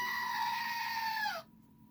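Screaming Goat novelty toy letting out one loud, sustained goat-like scream that holds steady for about a second and a half, then cuts off abruptly into near silence.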